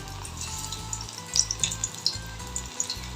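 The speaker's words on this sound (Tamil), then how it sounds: "பேபிகார்னை வந்து நம்ம ஃப்ரை பண்ணி எடுத்துக்கலாம்." Battered baby corn sizzles and crackles in hot oil, a steady close frying hiss broken by sharp popping bursts with no talking.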